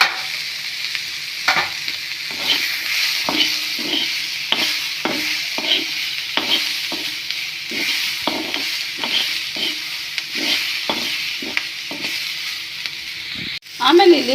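Mixed leafy greens frying in about a spoonful of cooking oil in a pan, a constant close sizzle broken by repeated scraping stir strokes at an irregular pace.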